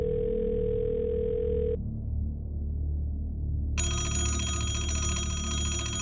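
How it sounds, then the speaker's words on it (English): A telephone rings out with no answer: a steady electronic tone first, a brief lull, then a bright, insistent ring repeating near and loud, with no voice picking up. "every time they try to connect with her on the phone, they get no answer"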